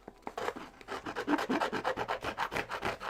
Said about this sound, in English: I'm just going to use the edge of my scissors to just basically scrape away the glue.